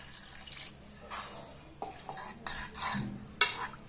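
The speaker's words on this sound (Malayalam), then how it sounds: "ഇനി ഇതെല്ലാം കൂടി ഒന്ന് മിക്സ് ചെയ്യാം." A spoon stirs tomato and other ingredients for fish rasam in a pot. The scrapes are faint and come in separate strokes, with a sharper clink near the end.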